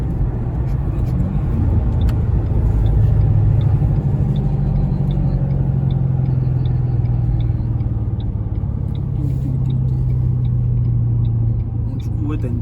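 A stock Peugeot 208 GTI hums along the road at steady speed in a high gear, a loud, continuous low engine drone and cabin rumble that rises and falls slightly, with people talking over it.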